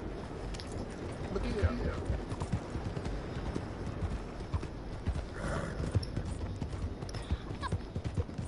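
A horse in Red Dead Redemption 2 online clip-clops along at a steady pace, with a couple of brief whinnies, under someone talking over the game sounds.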